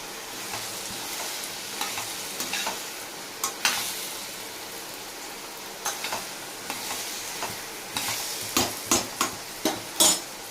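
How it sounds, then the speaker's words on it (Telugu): Green chillies and chilli powder stirred into a frying tomato curry with ridge gourd and potato: steady close sizzle with a spoon scraping the pan in repeated strokes, growing quicker and louder toward the end. "పచ్చిమిరపకాయలు వేస్తానండి. తర్వాత కొంచెం కారం, ఇవన్నీ ఒకసారి తిప్పుకోవాలి."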